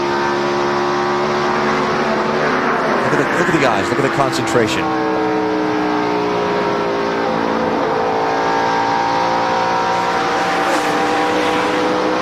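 NASCAR stock cars race at the 2002 UAW-GM Quality 500, a continuous loud roar of engines at full throttle rising and falling as the pack passes, with announcers talking over it throughout.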